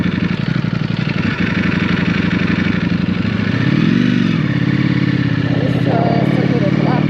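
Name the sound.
Ducati V4 motorcycle engine running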